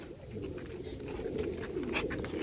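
Omani pigeons coo softly and repeatedly at a large pigeon farm in Latur, Maharashtra, their low rolling calls close by and continuous, with faint chirps in the background.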